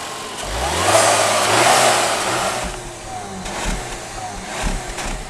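A 2015 Volkswagen Beetle Convertible's 1.8-litre turbocharged four-cylinder engine revs up and pulls away with a rising growl that swells, eases off, then climbs again, heard close with road noise behind.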